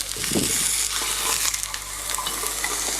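Chicken pieces searing in a covered pan over medium heat give a steady, close sizzle with a few stirring or scraping clatters early on.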